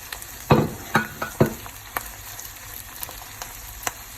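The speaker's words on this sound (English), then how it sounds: "we can add the garlic and the chili together, so all of those magic flavors can come out." Garlic and chili frying in a pan for chicken curry, a steady sizzle with several sharp stirring scrapes and clacks near the start, then lighter intermittent taps.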